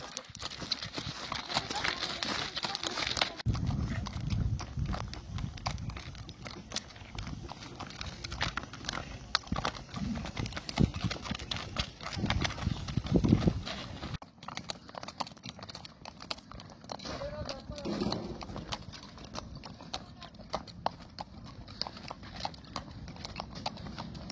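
Horse hooves clip-clop at a walking pace on a ride in Morocco, a faint steady rhythm of footfalls with French speech over parts of it.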